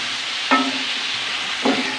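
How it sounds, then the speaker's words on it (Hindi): Boiled mutton is stirred into golden fried onions in a pot, with two brief scraping stir strokes over a low, continuous frying sizzle, close and without speech. "अब इसमें हम गोश्त ऐड करेंगे जो हमने बॉईल कर लिया था। अब अच्छे तरीके से मिक्स कर लेंगे"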